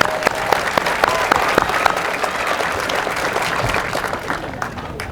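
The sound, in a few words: audience applause at a groundbreaking ceremony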